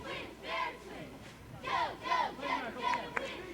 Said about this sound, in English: Decent crowd on hand here this afternoon for a soccer game.